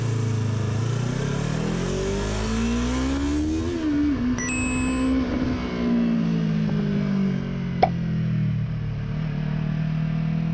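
A Yamaha R3 motorcycle engine hums and revs while being ridden, its pitch rising and dipping through gear changes in a continuous, close, loud drone with wind noise, and a brief click near the end.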